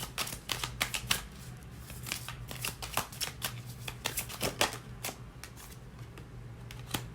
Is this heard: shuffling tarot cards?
yes